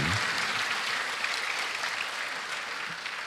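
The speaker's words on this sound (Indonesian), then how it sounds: "Kembali kita berikan tepuk tangan yang meriah untuk Bapak Kakorbinmas Polri." Sustained applause from a ceremony audience at the opening of a national police partnership meeting in Indonesia, dense even clapping that holds steady throughout with no talk over it.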